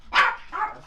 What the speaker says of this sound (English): Let me let my dog out.